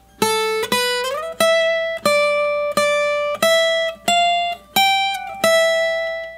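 A guitar plays a clean single-note melody from the A natural minor scale, about ten plucked notes with audible slides between some, ringing clearly and unaccompanied.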